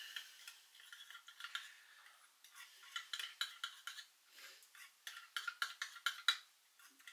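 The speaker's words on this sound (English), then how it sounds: "Give it a good old stir." A spoon stirs a dipping sauce of hot pepper sauce and ketchup for beef koftas, making a run of faint, quick clinks and scrapes against the bowl in an uneven rhythm with no voice.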